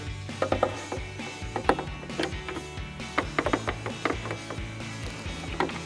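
Mounting screws being driven into the base of a rear spoiler on a 2024-2026 Ford Mustang with a ratchet, giving rapid close clicking bursts in an uneven rhythm, with no voices.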